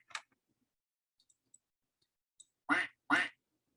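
A computer duck-quack sound effect played through speakers in a quiet room: one short quack at the start, faint clicks, then two loud, closely spaced quacks near the end.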